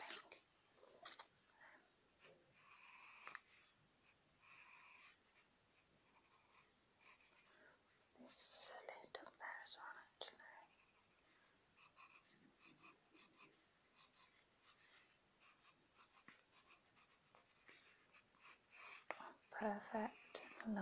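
A pencil sketches a Halloween costume on paper in a quiet ASMR setting, giving soft, close scratching strokes in irregular bursts, with faint whispered talk at times.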